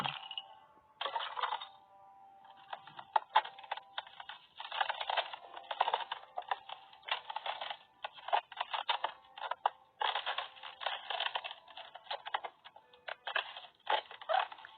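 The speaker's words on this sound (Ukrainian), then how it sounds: "А так звучать бурульки, коли падають і розбиваються." Icicles fall and shatter in repeated bursts of crisp, brittle crashing and tinkling, with short gaps between the clusters. The sound is fairly close and heard alone.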